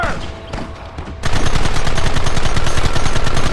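Rapid automatic gunfire from a Western shootout in the video game Red Dead Redemption, starting sparse and faint, then erupting into a loud, dense, continuous volley of shots that runs to the end.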